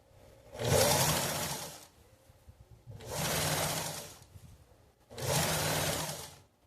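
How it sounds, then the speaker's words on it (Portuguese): Sewing machine stitching bias binding onto fabric in three sustained runs of steady whirring, each about one and a half seconds, separated by short quiet pauses. "Vou costurar com o pé de máquina."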